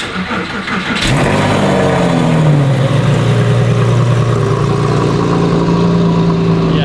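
A Porsche 911 engine starts up close by and settles into a loud, steady, throaty idle with a low rumble that holds to the end.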